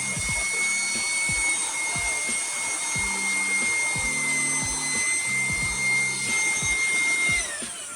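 An INGCO 800W 2-in-1 vacuum blower runs loud and steady with a high whine, while rhythmic rubbing and thumping strokes come through as it passes back and forth over carpet.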